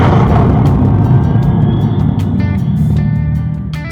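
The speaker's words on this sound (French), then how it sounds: "Là je démarre la voiture." An electric Dodge Charger muscle car starts up with a loud, deep synthetic rumble close by, holding strong before easing off slightly at the end.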